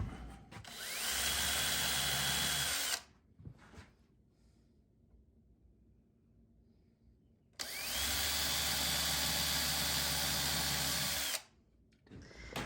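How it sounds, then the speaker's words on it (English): A power drill pre-drills holes in wood for hooks on a DIY outdoor play kitchen, running in two loud sustained bursts of about three seconds each, separated by a quieter pause. "We're going to pre-drill."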